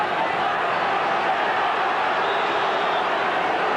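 A packed stadium crowd at a 1990 Kangaroos versus Great Britain rugby league test roars in a dense, continuous wash of noise, loud and unbroken, with a commentator's voice mixed underneath.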